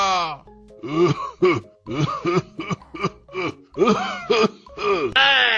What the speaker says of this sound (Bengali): দেখতে পাচ্ছিস না আমি কেশে কেশে মরে যাচ্ছি?